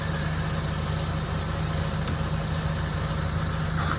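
A tractor engine idles steadily on a cattle farm, a constant low rumble that holds without change and sits alone with no talk.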